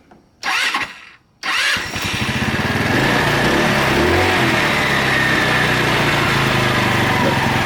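A small scooter engine cranks twice, catches, then runs with a steady buzzing idle that grows louder and holds, close by.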